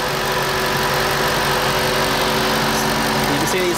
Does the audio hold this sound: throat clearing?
no